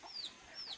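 A chicken on a coconut farm gives two quick, faint high-pitched calls close together, a brief clucking chirp with no voices over it.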